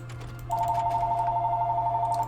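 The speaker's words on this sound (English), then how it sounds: "Listen to the phone." Telephone in the Hearts of Iron IV Equestria at War mod, a steady electronic ringing tone that starts half a second in and holds evenly over a low background hum.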